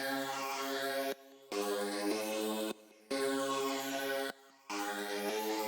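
A bright synth lead repeats a short pattern of notes, its tone swirling and sweeping from a strong phaser, with brief drops between phrases.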